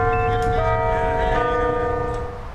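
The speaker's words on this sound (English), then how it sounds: "The bells ring outside." Church bells ring outside, several overlapping sustained bell tones with shimmering overtones, loud and ringing throughout before slowly fading at the end, no voices over them.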